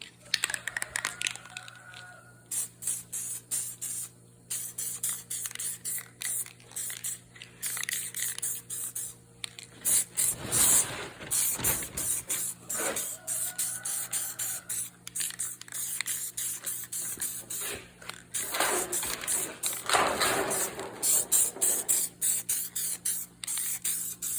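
Spray paint goes onto scuffed, Scotch-Brite-cleaned body panels of a 1981 Pontiac Trans Am in repeated close hissing bursts, short and steady, with quiet pauses between passes.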